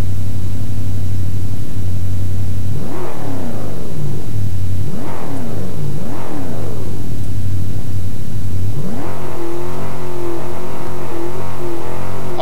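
A synthesized car engine idles with a low rumble, then revs three times in quick rising sweeps before climbing into a sustained high-pitched roar for a burnout. The sound is loud and close, with no voices.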